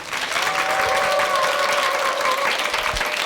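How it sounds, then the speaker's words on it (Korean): A television lecture audience welcomes the composer Lim Jong-soo with a full, continuous round of applause that fills the whole three seconds, with faint cheering tones mixed in. "큰 박수로 맞이해 주십시오."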